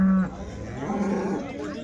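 Cows at a weekly cattle market in Punganur, one low mooing call rising near the start followed by a longer, rougher moo, with people talking around them.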